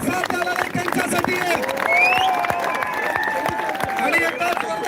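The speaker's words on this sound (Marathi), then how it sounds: "एकदा जोरदार टाळ्या होत्या आपल्या मायबापासाठी." A rally crowd applauds: dense, steady clapping throughout with shouting voices and crowd chatter mixed over it.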